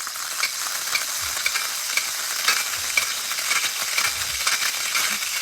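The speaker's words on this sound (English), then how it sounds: "The sizzling comes from the moisture that's coming out of the chicken." Chicken frying in hot oil in a sauté pan, a steady bright sizzle with small crackles and pops throughout, close and continuous.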